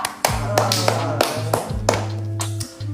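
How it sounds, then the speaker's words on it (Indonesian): Hands clap a handful of times in a loose, uneven rhythm, sharp and close, while a low electronic tone sustains underneath. "Wah, tepuk tangan dong, wah."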